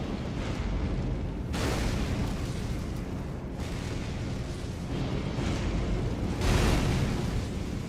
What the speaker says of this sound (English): it shoots a big thing and then it explodes twice.